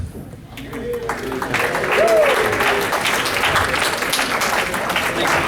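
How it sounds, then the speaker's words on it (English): Wedding guests cheer and applaud in a steady, dense wash of clapping that swells and holds throughout, with a few whoops and voices rising above the crowd. "And let's have a cheer."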